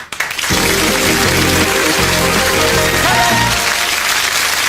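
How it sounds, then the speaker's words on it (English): A studio audience on a 1995 television game show claps in loud sustained applause, dense and continuous for several seconds, with music playing underneath. "Too busy clapping each other."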